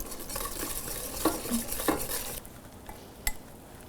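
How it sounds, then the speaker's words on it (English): Dairy is whisked into a thick, pale egg mixture for an ice cream base, with brisk, close whisk strokes scraping the bowl before they fade to a quieter pause and a single clink. "Now I'm gonna whisk in the dairy."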